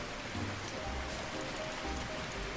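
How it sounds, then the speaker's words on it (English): Steady rain falls in RuneScape at sunset in Edgeville, a soft, even hiss of raindrops on surfaces with a few low rumbles underneath, faint and continuous with no voices. "Not only is it sunset, it's gonna be raining."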